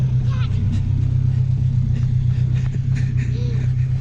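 A lowrider car rolls slowly over a newly poured driveway with a steady, low engine rumble throughout. Faint voices talk in the background.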